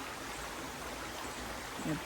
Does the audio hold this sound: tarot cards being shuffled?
no